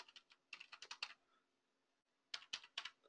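Quiet, close typing on a computer keyboard as a Linux install command is entered, two quick runs of crisp key clicks separated by a short pause.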